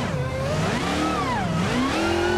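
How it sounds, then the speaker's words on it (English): Dodge Demon 170 in the BeamNG.drive video game revving hard, its supercharger whining in rising and falling sweeps over a loud, continuous engine roar. "That noise you hear is actually the supercharger."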